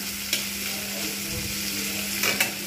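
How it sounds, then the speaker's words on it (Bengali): Bitter gourd fries in a pan over medium heat, a steady sizzle with a couple of brief clinks or stirring scrapes over the constant crackle and a low hum. "আমি এটা একটু ঢাকনা দিয়ে 2 মিনিট আমি মিডিয়াম আঁচে ভেজে নেব"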